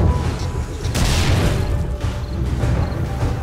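Explosion in 7 Days to Die during a Darkness Falls blood moon, a loud broad blast burst with rumbling debris, followed by further booming crashes and dense low-end noise over roughly three seconds.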